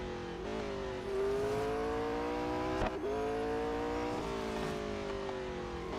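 A McLaren race car engine in Real Racing 3 howls steadily at high revs, pitch rising through gears with a brief shift dip midway, loud and close with no talk.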